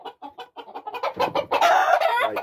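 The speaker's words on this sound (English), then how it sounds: "This is the best way to hold a chicken where you have full control." A game rooster held in someone's hands gives a run of close, rapid clucks and throaty squawks that grow louder and denser toward the end, with no talk.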